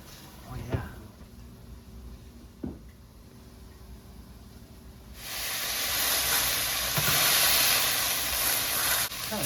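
Smash burger patties sizzling on a kitchen stovetop: a soft steady hiss with a couple of light taps, swelling into a louder, brighter frying sizzle halfway through.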